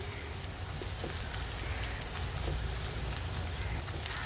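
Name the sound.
onions frying in a pan before adding dried boal fish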